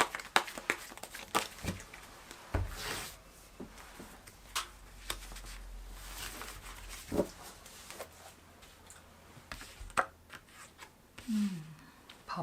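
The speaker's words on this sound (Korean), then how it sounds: "지름길을 알려드리는 조언 카드 열어보겠습니다" Tarot cards are handled and turned over on a table during a reading. Quiet, scattered rustles, soft taps and crinkly flicks come at irregular intervals with stretches of near silence.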